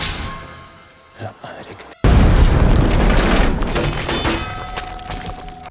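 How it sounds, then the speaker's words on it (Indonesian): A bomb trap detonates with a sudden loud boom after a quieter stretch of talk, followed by a sustained roaring, crackling blast that fills the rest of the clip; a voice is heard beforehand. "Botas juga tewas dengan jebakan bom yang sudah Joe persiapkan."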